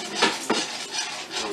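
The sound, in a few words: whisking cheese sauce in a pot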